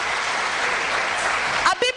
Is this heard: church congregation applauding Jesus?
yes